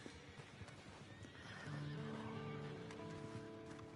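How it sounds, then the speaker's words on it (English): In the video game Red Dead Redemption 2, a horse gives a clear, fairly close neigh with a rising, wavering whinny over faint hoofbeats and outdoor ambience. "That wasn't my horse making that noise."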